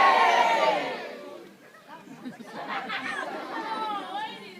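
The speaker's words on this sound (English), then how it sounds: "I expect to hear a big loud cheer" A crowd at a Warwick Castle portcullis opening ceremony cheers and shouts in a loud burst that fades, then rises again into mixed chatter and calls.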